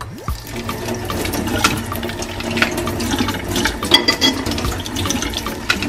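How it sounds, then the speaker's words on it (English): Tap water runs steadily and close while green bananas are peeled under the stream, with soft splashes and small clicks over the constant flow. "Now I will use my thumb under running water."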